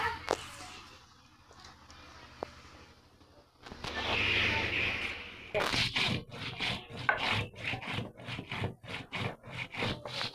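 Spices are ground by hand on a grinding stone for a mustard hilsa curry, giving repeated rough rubbing and scraping strokes that grow louder and more rhythmic in the second half, close and clear.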